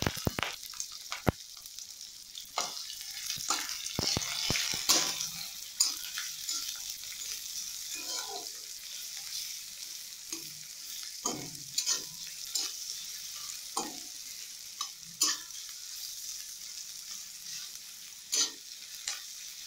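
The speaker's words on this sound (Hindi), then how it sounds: "प्याज पकईदबा" Onions fry in a pan for aloo chop, a soft steady sizzle close by, punctuated by frequent sharp scrapes and taps of a spatula stirring, with no talk.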